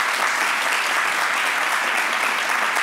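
A television talk-show audience gives a close, loud burst of applause. The clapping is dense and even, and it carries on without a break for nearly three seconds.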